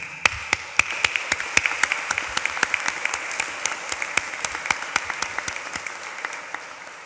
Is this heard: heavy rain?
no